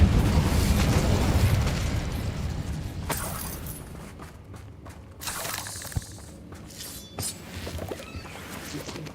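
In the video game Hogwarts Legacy, a fire spell goes off in a loud roaring blast with explosive bursts, followed by several sharp cracks and impacts as fighting continues in the game.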